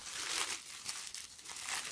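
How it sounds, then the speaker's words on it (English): Tissue paper crinkling as skateboard-brand clothing is unpacked, a soft close rustle with crisp bursts of crumpling over two seconds, fairly quiet and alone. "this is tissue paper on the back"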